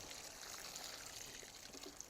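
Filtered water is poured a little at a time onto the soil around a freshly transplanted fruit tree, making a faint, soft trickle and splash close by without any speech.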